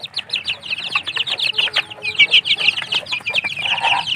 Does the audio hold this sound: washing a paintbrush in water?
no